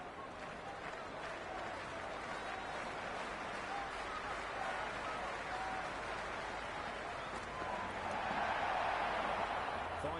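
Cricket stadium crowd noise in the Cricket 26 video game: a broad, steady roar of spectators with scattered applause, swelling a little toward the end, under a commentator's voice.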